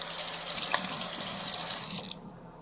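Kitchen tap water runs steadily into a sink while turkey kit parts are rinsed, a continuous close hiss and splash that cuts off just before the end.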